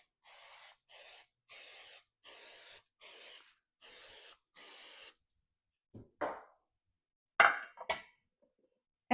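Cooking spray hisses onto a loaf pan for pumpkin bread in seven short, evenly spaced bursts, followed by a few clinks and knocks of the can and pan.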